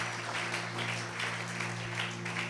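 A church congregation applauds together in a steady, continuous wash of clapping, moderately loud with a low constant hum underneath.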